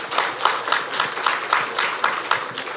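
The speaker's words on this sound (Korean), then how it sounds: "먼저 우리 박수 한번 해주십시오." A church congregation claps for a child called forward to share a testimony, a steady crowd of hand claps filling the room at moderate volume with a regular pulsing rhythm and no talking.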